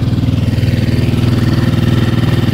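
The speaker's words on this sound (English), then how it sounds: "The motor is working good, but it has a little vibrations." Steady, loud low throb of the inboard motor on a CS 36 Traditional sailboat, running close by with a fast even pulse and noticeable vibration, no voices over it.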